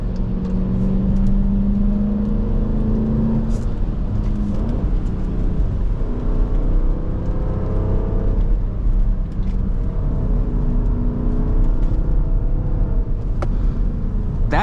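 A 2023 Dodge Durango SRT 392 heard from inside while being driven, its engine a loud continuous rumble that swells and drops with the throttle, with whirring road noise underneath and no talk.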